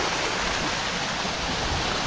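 Water from a fountain on a promenade in Koblenz splashes in a steady, dense rush, loud and close, with no voices over it.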